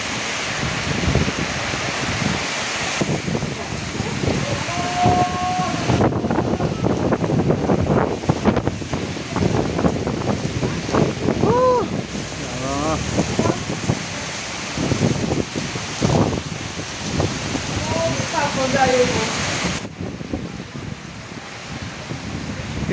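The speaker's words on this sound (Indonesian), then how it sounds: "Aduh, anginnya kuat." Strong windstorm gusting through an outdoor bonsai exhibition in Banyuwangi, a constant roaring rush with buffeting bursts, while people talk and exclaim over it throughout.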